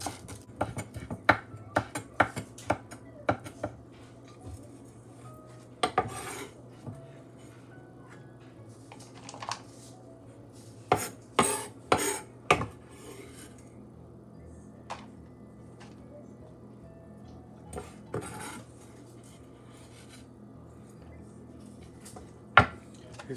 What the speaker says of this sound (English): Just chop it. If you can't chop it small, and you can later after you cut it, you can just chop it to make it small.